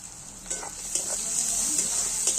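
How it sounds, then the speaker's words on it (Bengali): Capsicum added to softened onion in hot oil, sizzling steadily with a bright, close hiss while a spoon stirs it with a few soft scrapes. "ওই নরমের মধ্যেই ক্যাপসিকামগুলো দিয়ে দিচ্ছি, একটু ভাজা ভাজা হয়ে যাবে।"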